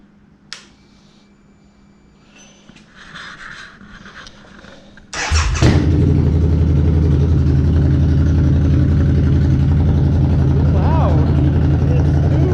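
A Harley-Davidson V-Rod Muscle with a Vance & Hines slip-on exhaust starts after some quiet handling noise, then settles into a loud, deep, steady idle close by.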